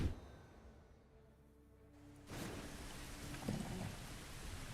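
Steady rain falls in the space game Starfield, a broad wash of hiss that swells louder partway through and keeps going with no voices over it.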